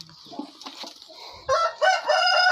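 A green black-tailed rooster gives a loud, close crow in the second half, preceded by quieter scattered clucks and soft background sounds.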